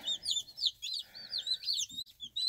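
Baby chicks peep and cluck in a rapid, continuous chorus of high chirps, close by and fairly loud, with no talking.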